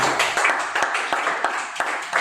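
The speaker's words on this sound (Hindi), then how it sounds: "तो क्यों ना हम परमेश्वर के लिए जोर से ताली बजाओ" A church congregation at a Sunday evening service claps together, a steady run of fairly close, loud claps with some voices mixed in.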